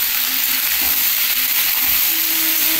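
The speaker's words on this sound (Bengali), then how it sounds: "এবার খিচুড়িটা বসিয়ে দেব।" Khichuri cooking in a pot on the stove gives a steady, close sizzling hiss with faint stirring, continuous throughout with no talking.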